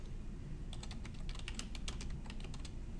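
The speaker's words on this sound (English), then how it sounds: "I have to type in the numbers" Numbers being typed on a computer keyboard, a quick run of light, crisp key taps clustered in the middle, faint and close against a soft background hiss.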